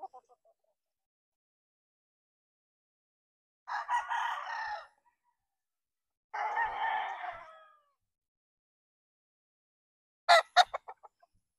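Roosters, Boston Roundhead cross stags and pullets, crow twice in long, close calls a few seconds apart, followed by a quick burst of sharp clucking in an otherwise quiet yard.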